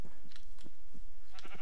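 Sheep in a Minecraft video game bleat in a series of short, separate calls, several in quick succession with small gaps between them, clear and fairly close, with no talking.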